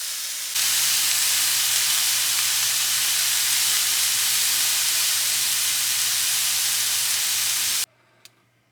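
Beef searing in a hot pan, a loud continuous hiss and sizzle held close for about seven seconds before cutting off abruptly, no voices.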